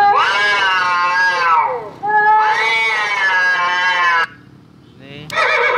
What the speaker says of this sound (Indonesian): kucing berantem.